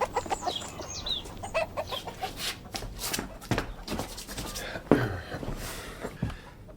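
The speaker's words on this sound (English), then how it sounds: "I'll feed the chickens." Chickens cluck and scratch about nearby, with soft rustling and scuffing noises mixed in.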